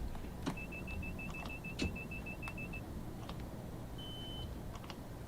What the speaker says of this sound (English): Beep, yes, beep, beep